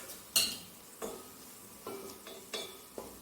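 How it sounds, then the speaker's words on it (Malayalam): Coriander, chili and pepper powders sautéing in a pan for Kerala-style kadala curry, with soft sizzling broken by about six distinct scraping stir strokes of a spoon against the pan. "മല്ലിപ്പൊടി, മുളക് പൊടി, കുരുമുളക് പൊടി. ഇതൊന്ന് വഴറ്റട്ടെ."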